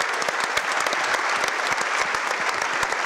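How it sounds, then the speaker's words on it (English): An audience at a security conference opening gives a big round of applause, a dense, even burst of many hands clapping that stays steady throughout. "I want a big round of applause for Jean-Georges Fall."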